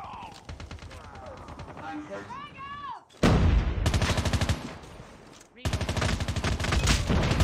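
Rapid automatic gunfire from a weapon in the mobile shooter COD Mobile, loud dense bursts in two long volleys separated by a brief gap, with game sound effects before the first burst.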